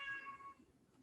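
A cat gives a single short meow near the start, a faint, thin cry that fades quickly into quiet room tone.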